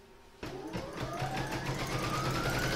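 An embroidery machine stitches the outline round of an in-the-hoop table topper, a steady rapid mechanical stitching rhythm with a rising whine, starting abruptly after a short quiet moment and running close and loud to the end.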